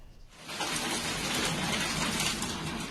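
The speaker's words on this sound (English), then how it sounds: "a sudden downpour hit the city, accompanied by thunder, lightning, strong winds, and hailstones" A sudden city downpour accompanied by thunder and hailstones arrives after a brief quiet onset as a dense, steady roar of heavy rain beating on surfaces, loud and unbroken.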